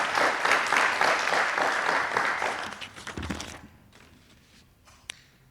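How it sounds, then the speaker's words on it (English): An audience at a municipal regional event applauds loudly and steadily for several seconds, then the clapping thins and fades to scattered claps and room noise. "a round of applause to the Swakopmund municipality"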